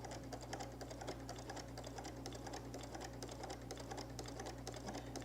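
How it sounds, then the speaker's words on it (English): A sewing machine stitches a quilted holiday placemat with a steady, fast, even rattle that runs unbroken throughout at moderate volume. "Now we can start stitching."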